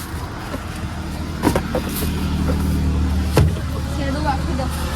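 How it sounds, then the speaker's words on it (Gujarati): An auto rickshaw engine drones steadily during the ride home, with low rumbling and a couple of short knocks, while people talk in the cabin. "તો આજે આપણે રિક્ષા ચલો ઘરે નીકળીએ"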